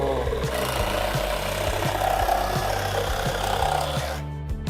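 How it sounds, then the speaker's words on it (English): A power saw cuts a half-circle shape out of a wooden board, a continuous buzzing whine with a regular ticking pulse that runs steadily and then drops away near the end. "We're going to go ahead and cut that out."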